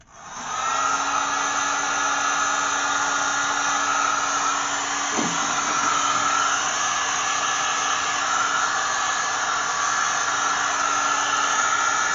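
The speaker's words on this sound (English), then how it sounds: "I'm going to get a heat gun and try to speed that up a little bit." A heat gun blows hot air over rust treatment on the frame of a Gremlin car: a steady, loud, continuous whooshing roar with a constant tone, running unbroken for the whole stretch at close range.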